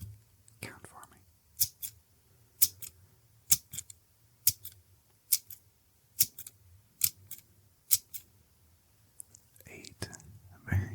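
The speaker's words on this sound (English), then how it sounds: "What about if we use scissors?" Scissors snip crisply and close, about a dozen separate cuts in an uneven rhythm, with soft whispering between them in a quiet ASMR setting.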